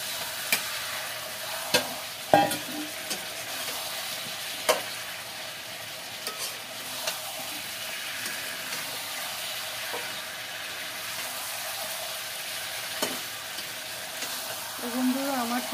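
A pan of chicken gravy with fried potatoes simmers in a low, steady sizzle, with occasional quiet knocks and scrapes as it is stirred. The sound stays faint and even for a long stretch.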